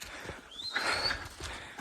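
Pack horses on a mountain trekking trail near Chandernahan, with soft hoof steps and a faint bell-like ring or whinny over outdoor ambience, moderately distant.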